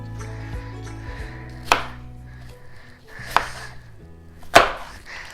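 Knife cuts Granny Smith apples into slices, with three sharp chops against a cutting board, spaced about a second apart, over quiet background hum.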